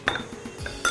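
Quick light clinks and taps of a utensil against a bowl while chopped tomatoes and onion are mixed for an Ethiopian tomato salad, a few short close knocks within a second.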